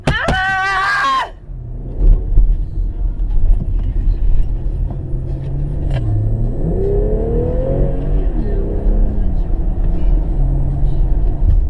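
A Dodge car's engine rumbles close and loud as it pulls up and stops in front of another car, its tone swelling and dipping, after a brief shout at the start.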